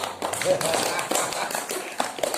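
An audience applauds with scattered, irregular hand claps of moderate loudness, a loose patter of individual claps in a hall, with voices faintly mixed in underneath.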